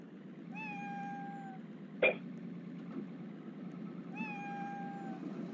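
A cat in a Roblox snow simulator game meows twice, each a drawn-out, gliding call several seconds apart, heard over a steady background hum with a brief thump between the calls.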